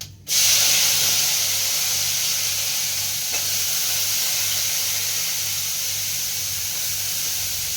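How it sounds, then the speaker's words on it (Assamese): Cauliflower, onion and whole cumin frying in a hot pan, a loud, steady sizzle and hiss that starts abruptly and continues evenly close up, with no talking. "ইয়াত ফুলকবি পিঁয়াজ কলি আৰু পিঁয়াজ দি ফ্ৰাই কৰিম এতিয়া"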